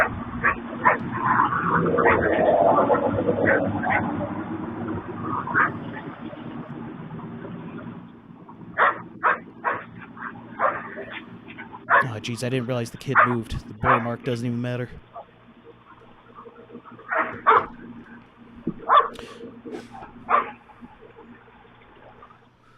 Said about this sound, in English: the dogs run over and try to attack his kids